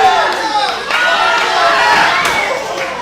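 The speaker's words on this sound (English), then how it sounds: "Crowd chanting one more time." Wrestling crowd at a live event chanting and cheering, a loud, dense wash of many voices filling the venue throughout.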